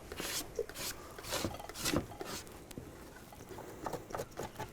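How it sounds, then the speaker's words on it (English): Leftover pasta dough is scraped off a wooden board in quick, rough rasping strokes, quiet and close, with no voices over the scraping. "All this shit on the board now, I'm just gonna scrape off."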